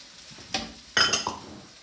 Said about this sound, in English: Nice sizzling noise we want.